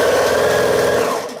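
A sewing machine runs in one fast, continuous burst of whirring stitches as quilt star block pieces are fed through, loud and close, then winds down at the end.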